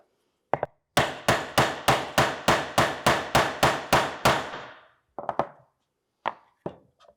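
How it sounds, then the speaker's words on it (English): Wooden panels of a small homemade cajon are hammered together: a rapid, even run of about ten sharp, close knocks, then a pause and a few scattered, softer taps. "I want to make sure that I keep hammering until that gap is completely closed"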